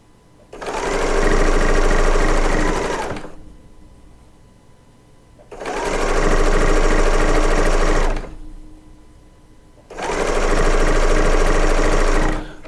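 A serger sewing machine piecing a quilt top runs in three loud, steady bursts of about two to three seconds each. Short pauses separate the bursts, and no one talks.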